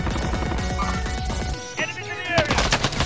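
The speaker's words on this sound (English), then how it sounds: "I can hear gunshots going off." Gunfire in Call of Duty Warzone, with rapid automatic bursts and scattered shots rattling continuously, loud and close, followed by sharper, louder shots near the end.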